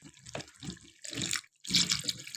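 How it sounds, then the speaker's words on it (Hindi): Water is poured in several short bursts into a pot of potato curry (aloo tangri salan) in a home kitchen. The splashing comes in close, uneven spurts, with the later pours louder, and no talking is heard. "अब इसके अंदर पानी डाल देते हैं"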